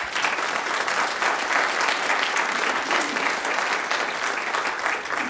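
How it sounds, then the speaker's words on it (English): Conference audience applauding the event organisers, a dense, sustained round of clapping from a large crowd, loud and even throughout with a faint murmur of voices underneath. "Can we get a round of applause for Chris and Sam?"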